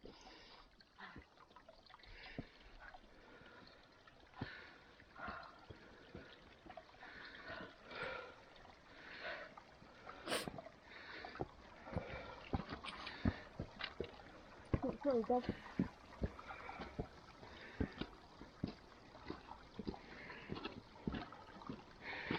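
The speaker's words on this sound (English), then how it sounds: "not a sound apart from the trickle of water, heavy breathing and boots" Quiet, intermittent trickling and dripping water with small splashes, soft and close, on a hike to Haystacks in the Lake District, while someone briefly speaks.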